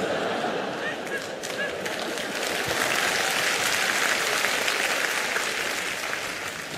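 Audience applause at a Cantonese stand-up comedy show: dense, sustained clapping from a large crowd fills the whole stretch at a steady, loud level.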